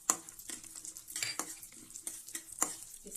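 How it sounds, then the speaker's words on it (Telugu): Small chopped almond pieces frying in melted ghee in a pan, with quiet crackling sizzle and several sharp stirring scrapes and clinks at irregular intervals, close and faint, with no talking. "గీ మెల్ట్ అయిపోయింది కదా, దాంట్లోకి బాదం పప్పులు చిన్న చిన్న ముక్కలు చేసి పెట్టానండి"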